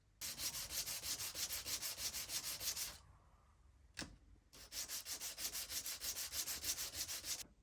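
A Yamaha acoustic guitar saddle is rubbed back and forth on abrasive to level it, making rhythmic scratchy sanding strokes, then a pause with a single knock before the steady strokes resume.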